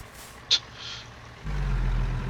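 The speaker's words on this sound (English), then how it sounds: "Just bleed off all my air." Peterbilt 579 truck in American Truck Simulator gives one short, sharp air-brake hiss as the air bleeds off, followed by a low engine idle rumble that swells and holds steady.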